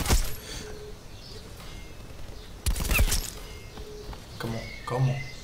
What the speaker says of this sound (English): This man just keeps shooting!